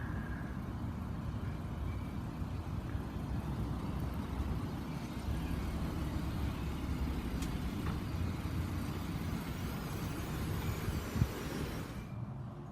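A deputy's car idling nearby, producing a steady low engine rumble that runs continuously and fairly softly, with no one talking.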